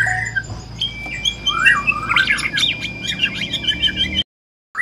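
A white-rumped shama calling close by, a run of bright whistles, squawks and chirps over a low background hum, ending in a brief silence.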